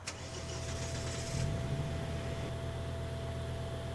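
A white Nissan GTR with changed wheels, an added radiator and an open hood starts up in a Euro Truck Simulator 2 car mod: a brief whirring crank, then the engine catches and settles into a steady idle.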